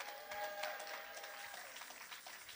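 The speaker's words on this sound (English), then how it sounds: "And that's a good place to clap." A church congregation claps at a Palm Sunday celebration service, a fairly faint, steady patter of many hands with no speech over it.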